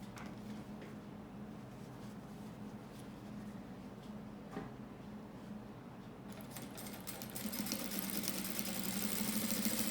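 A sewing machine topstitches the side of a zipper bag organizer with a steady, continuous motor hum that grows louder and busier over the last few seconds, with no talking.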